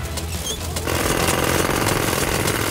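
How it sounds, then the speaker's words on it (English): A cartoon jackhammer starts up and pounds in a rapid, continuous rattling burst, loud and close, running steadily with no talk over it. "Jackhammer!"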